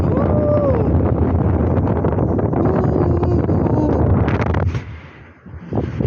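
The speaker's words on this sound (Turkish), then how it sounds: "Felaket bir rüzgar var." Strong, steady wind roars and buffets the microphone with constant low rumble, easing briefly near the end before gusting again.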